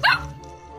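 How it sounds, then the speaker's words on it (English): A single short, loud dog bark rings out close by, followed by a faint tail of quiet background. "I've always wanted a dog."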